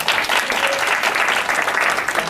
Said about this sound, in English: Please, applause for Betül.